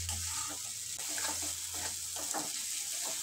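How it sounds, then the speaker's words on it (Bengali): Masala for a rui fish curry sizzles steadily in oil as a spatula scrapes and stirs it in short, repeated strokes, close and continuous with no voices. "ঢাকনা তুলে আমি মশলাটা আবারও ভালোভাবে কষে নেব।"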